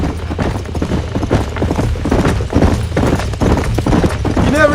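Horse hooves clip-clop steadily and loudly in the Red Dead Redemption video game, a fast, continuous galloping rhythm on the trail as a rider tracks a herd of horses.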